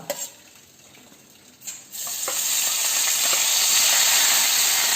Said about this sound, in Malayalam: ഇനി ഇതിലോട്ട് ആദ്യം തന്നെ വെളുത്തുള്ളിയും കറിവേപ്പിലയും ചെറുതായി അരിഞ്ഞത് ഇട്ട് കൊടുക്കാം.